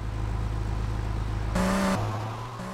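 A car engine in GTA Vice City Stories drones steadily at a low idle hum, briefly rising in a short rev near the middle before settling back, loud and close with no talk over it.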